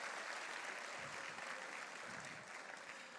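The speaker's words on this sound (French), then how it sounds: "on peut les applaudir" Sustained audience applause at a mini-enterprise festival award ceremony, a dense steady wash of clapping from a large crowd filling the whole stretch, loud and even throughout.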